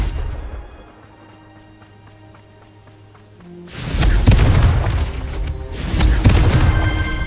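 A Confringo spell in Hogwarts Legacy erupts in a loud booming blast with crashing debris after a quiet stretch of faint game tones, followed by a second rumbling burst.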